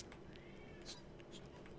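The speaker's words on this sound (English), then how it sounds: "If you hear my cat meowing in the back," A pet cat meows faintly in the background of a quiet room, a couple of short thin cries, with a low murmur of voice or game sound beneath.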